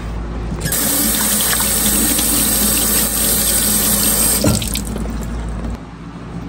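Two tomatoes washed under a running kitchen tap for shrimp sinigang, a steady loud rush of water splashing into the sink, continuous and close, easing off toward the end.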